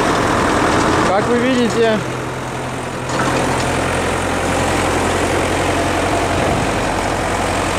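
MTZ tractor engine idling steadily with a front snow plow blade fitted, a low continuous rumble throughout, with someone speaking briefly over it near the start.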